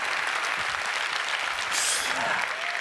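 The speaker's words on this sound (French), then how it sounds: "Applaudissez-le très fort, s'il vous plaît." Audience applause at a French community ceremony honouring a team of young people, a steady wash of many hands clapping throughout, moderately loud, with faint voices mixed in.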